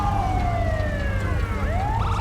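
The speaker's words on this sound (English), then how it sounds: "There's siren there. Siren there." A wailing emergency vehicle siren in the video game GTA 5 sweeps down and then rises again, loud and steady over low rumbling engine noise, with no voices.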